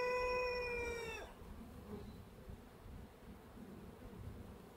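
Honeybee drones buzzing during a hive transfer into a Warré hive, a clear rising tonal drone close by for about a second, then giving way to soft rustling and faint scattered hum.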